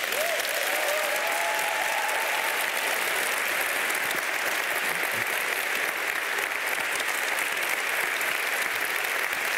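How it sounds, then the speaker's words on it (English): A crowd applauds EDHEC scholars at an executive education celebration, continuous, dense clapping at an even level throughout, with a faint brief tonal sound early on and no speech. "Everybody, please applaud our EDHEC scholars."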